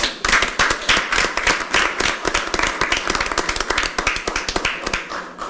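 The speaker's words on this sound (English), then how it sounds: "Let's give them a round of applause." A room at an Independence city council meeting breaks into close, loud clapping: sharp individual hand claps pile into a lively round of applause that keeps going for several seconds, with nobody speaking.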